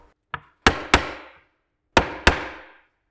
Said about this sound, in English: So if you only have a hammer and your block of wood, just tap them down.